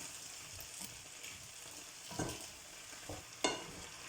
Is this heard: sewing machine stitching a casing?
no